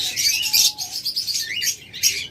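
A pair of per blue opaline budgerigars chirps and chatters without pause, bright, busy twittering close by with short warbling phrases and no voices.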